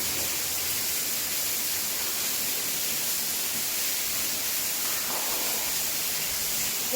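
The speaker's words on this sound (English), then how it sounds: "underground waterfall." Steady roar of an underground waterfall deep inside a slate mine, a dense broadband rush of falling water that holds constant for several seconds, loud and close with no voices.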